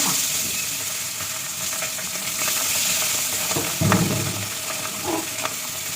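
Fish frying in a pan sizzles steadily throughout, with a louder burst of crackling spatter near the middle and a brief flare soon after, no voices over it.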